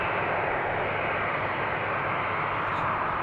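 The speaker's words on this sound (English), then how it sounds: "And we have an EasyJet Airbus ready to take off on short notice." An EasyJet Airbus airliner at Amsterdam Schiphol Airport roars with a loud, continuous broadband jet engine noise, steady and close, with no talk.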